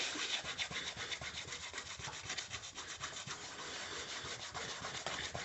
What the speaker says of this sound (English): Then I just rub with my hand there.